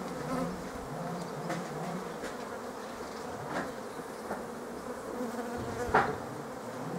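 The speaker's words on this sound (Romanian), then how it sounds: "acolo un pic de zumzet, se scoate albina tânără la zbor." Honeybees buzz steadily around a beehive, with young bees being taken out for flight, a dense continuous hum with a few louder passes close by and no talking.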